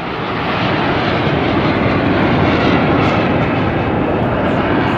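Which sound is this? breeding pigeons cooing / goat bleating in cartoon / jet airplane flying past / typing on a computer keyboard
jet airplane flying past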